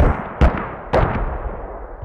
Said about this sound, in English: You can hear the explosions though.